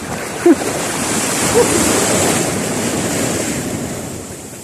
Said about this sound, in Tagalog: Laki po ng alon eh.